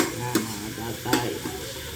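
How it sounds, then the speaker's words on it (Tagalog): Vegetables sauté in a hot pan: a steady oily sizzle runs throughout, with two sharp scraping stirs of the utensil against the pan, and nobody speaks. "Gigisa lang natin yung gulay hanggang sa medyo maluto lang siya."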